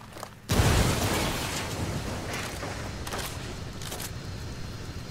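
A frag grenade blast in the Ghost Recon video game hits hard and sudden with a loud broadband boom, then trails into a long rumbling, crackling tail of debris and gunfire-like bursts.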